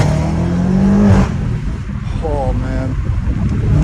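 A BMW M5 Competition fitted with down pipes revs, its engine note rising and falling in a loud, close roar, with a man exclaiming over it.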